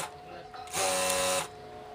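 A sewing machine stitches a pillow cover in one short burst of rapid mechanical whirring, starting and stopping abruptly, with quiet room sound before and after.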